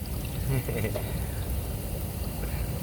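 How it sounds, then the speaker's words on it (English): An RV sewage back flush system runs clear water, a steady pouring and trickling rush of liquid with a continuous, fairly loud flow under a faint voice. "I got a back flush system on this, and as you can see, it runs clear water."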